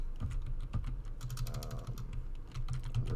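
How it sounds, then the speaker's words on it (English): Rapid keystrokes on a computer keyboard, close and steady, with a few heavier key presses punctuating the quick clicking and no talk. "I'm just going to type it in then."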